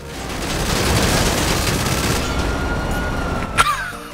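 Sustained automatic gunfire in GTA: a dense, loud burst of rapid shots rattles on for several seconds, ending with a sharp, bright crack near the finish, with no talking.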